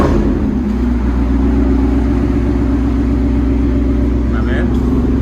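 Ford F-150 with a 5.0L Coyote V8 and loud aftermarket exhaust, a deep steady idle rumble close by, rising slightly, with voices talking over it.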